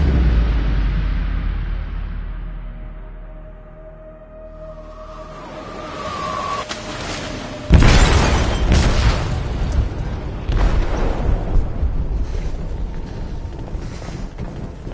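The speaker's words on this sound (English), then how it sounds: "They detonated an explosive in the hold." An explosion goes off aboard a ship in the video game Detroit: Become Human. A deep boom hits after a low rumbling lull and is followed by heavy crashing and sustained roaring debris.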